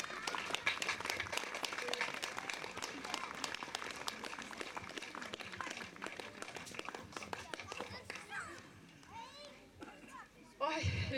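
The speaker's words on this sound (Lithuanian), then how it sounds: "Pasitikim plojimais." An audience at a poetry event greets a speaker with sustained, dense applause lasting about eight seconds, fading out as children's voices and chatter rise softly beneath.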